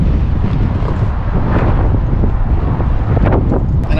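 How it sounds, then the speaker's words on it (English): Heavy wind buffets the microphone in a constant loud roar, gusting and rumbling throughout with no break. "it's super windy, so I hope you can hear me"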